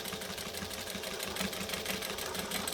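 A sewing machine stitches along the edge of a fabric wallet, a faint, steady rapid whirring hum with fine rhythmic needle ticking, running alone without pauses.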